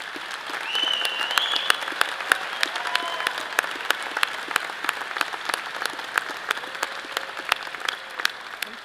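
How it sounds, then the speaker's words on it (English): Sustained applause from a commencement audience honoring honor society graduates at a College of Natural Sciences ceremony, dense steady clapping filling the hall for the full stretch with no talk. "I ask those students who belong to an honor society to rise or raise your hand so that we can applaud your accomplishments."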